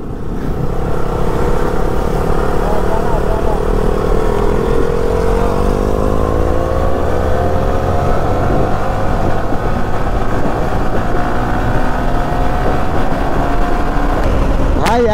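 Loud motorcycle engines roaring close by, a dense continuous drone with rising and falling pitch as the bikes rev and speed along a road, with no pauses.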